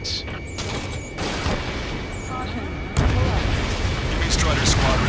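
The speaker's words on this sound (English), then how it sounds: "Gunfire and the roar of jets echoing through the streets" Explosive gunfire and roaring jets echo through city streets under martial law in the video game Ace Combat 7, a dense, loud rumble with sharp cracks that swells louder midway and stays continuous with no voices.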